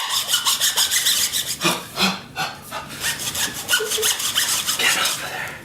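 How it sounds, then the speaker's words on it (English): A hand saw rasps back and forth through the bottom of a Christmas tree trunk, trimming about an inch off the base in steady, close strokes that pause briefly midway. "Got a saw, so we've got to take about an inch or a little more off the bottom of the tree."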